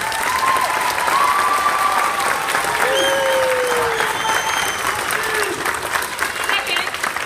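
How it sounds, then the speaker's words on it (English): An audience at a Sunday community theatre performance of The Wizard of Oz applauds steadily, with a dense wash of clapping, some cheers and whistles, and speech mixed in. "let's give them another round of applause."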